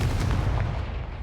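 A Confringo blasting spell going off in the Hogwarts Legacy video game, a single loud, close, booming blast with a rumbling tail that fades over about a second.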